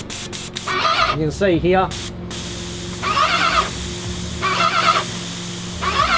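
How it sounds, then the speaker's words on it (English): A Graco 390PC cordless airless paint sprayer fires in three bursts of broadband hissing spray, each lasting roughly a second with pauses between, close by, while someone talks over the start and a steady machine hum runs underneath. "So now we've got the tip in, back to spray, crank it up."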